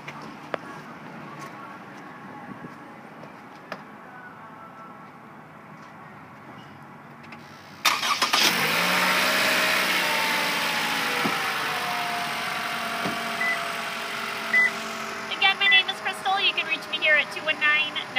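A 2012 Toyota Camry at a used car lot, hood open, cranks and starts its engine after a quiet stretch, then settles into a steady close idle.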